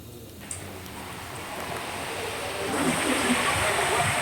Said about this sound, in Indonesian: Ombak tinggi di tengah hujan deras disertai angin kencang